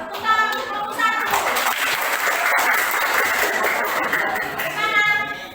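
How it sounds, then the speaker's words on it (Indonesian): A classroom of children claps for group 1 in a sustained burst of applause. Voices are heard briefly just before and just after the clapping. "Tepuk tangan untuk kelompok 1"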